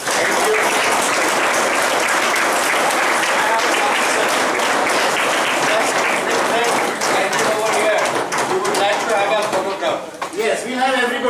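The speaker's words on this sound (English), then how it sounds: "Can we have a round of applause for all of our NGOs?" Loud, sustained applause from a conference audience at a business school event honoring NGOs, dense clapping throughout that thins slightly near the end.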